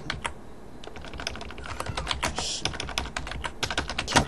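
Quick, steady typing on a computer keyboard, a dense close stream of plastic key clicks with no speech.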